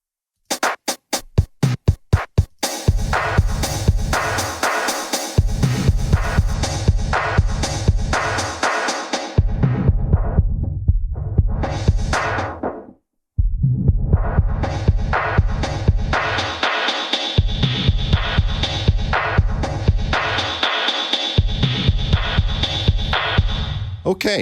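TripleTech Pulsar-ES synthesizer playing a loud throbbing, pulsing sequence after a few sharp opening hits, with reverb added and the filter cutoff and resonance swept so the tone opens and closes, briefly dropping out near the middle.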